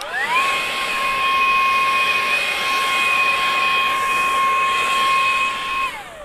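A Makita 36V cordless leaf blower runs at its top speed setting, 6, with a loud, steady high-pitched whine. It spins up at the start, holds constant, and winds down near the end with no talking.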